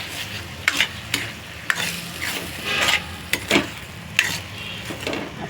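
Soybean curry fries in a pan with a steady sizzle, broken by repeated scraping strokes of a spatula at close range, and no voices.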